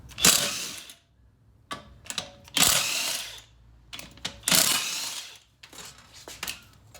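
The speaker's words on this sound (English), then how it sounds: "I'm gonna back them off." A power tool whirs in three separate bursts, backing out 15mm bolts from the wheel hub of a Jeep Commander during a wheel bearing job, each burst loud and close with short metallic clicks between.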